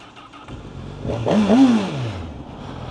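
A 2025 Honda Hornet CB1000 motorcycle engine idles low, then revs up briefly in one rising and falling surge before settling back to a steady idle, fairly close.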